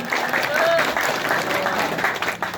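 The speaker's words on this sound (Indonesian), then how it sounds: "tepuk tangan dulu buat Kakak Sutarmi." An audience at a regional council outreach gathering in Lampung bursts into brief, loud applause, a dense wash of clapping with crowd murmur and voices mixed in.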